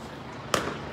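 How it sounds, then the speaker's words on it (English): A flashbang grenade goes off at a street protest as a single sharp, bright bang with a short ringing tail, heard at moderate distance over a low background murmur. "they're throwing pepper bullets, flashbangs, one's right here, tear gas"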